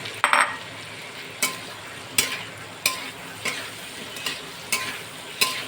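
Garlic and small-chopped tomato fry in a pan with a steady sizzle, broken by regular scraping stir strokes about every half second to second, close and clear with no talking.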